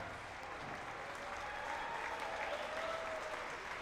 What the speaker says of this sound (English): Ladies and gentlemen, please give them a round of applause.